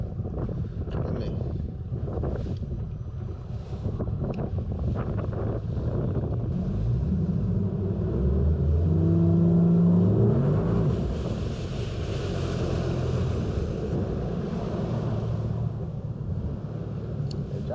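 A Skeeter FX21 bass boat runs on open water, its engine a steady low drone mixed with rushing wind buffeting the microphone and water noise throughout.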